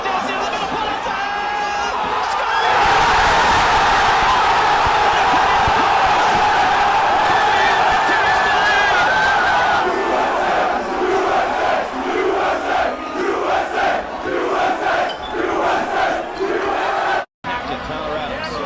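A soccer stadium crowd roars and cheers loudly and continuously, swelling into a sustained wall of voices that dips and surges near the end, with a commentator talking over it.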